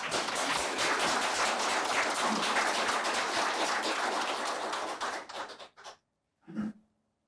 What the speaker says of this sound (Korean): 뜨거운 박수 한번 주십시오